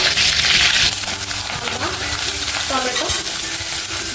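Chopped tomato goes into hot oil with onion for a green moth bean usal, setting off a loud, steady sizzle with stirring scrapes and clinks of the pan close by throughout.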